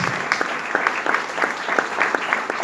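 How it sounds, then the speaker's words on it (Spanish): A church audience claps for the Lord, a steady dense applause of many hands that stays even throughout the short stretch, with no voices standing out. "Denle fuerte ese aplauso al Señor"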